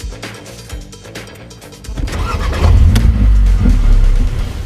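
Mercedes A45 AMG and CLS63 AMG cars launch in a drag race with launch control, a low engine build-up erupting into a loud, close, roaring surge of acceleration that holds strong to the end.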